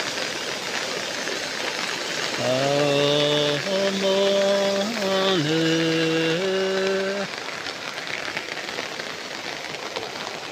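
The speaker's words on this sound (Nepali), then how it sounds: "पानी पनि भिसान परिरहेको छ।" Heavy, steady rain pours over Bethanchok in Kavre, Nepal, a dense hiss filling the whole stretch, with a sustained tonal horn-like note rising and bending through the middle before fading back into the downpour.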